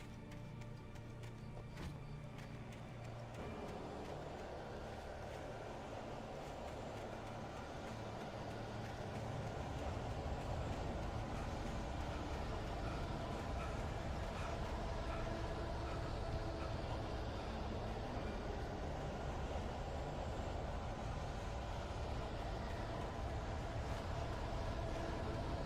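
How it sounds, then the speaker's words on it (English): A train in the video game Alan Wake Remastered rolls past, its deep mechanical rumble swelling partway through and then holding as a loud, continuous roar. "Train."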